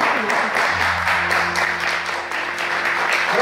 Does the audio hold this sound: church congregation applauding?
yes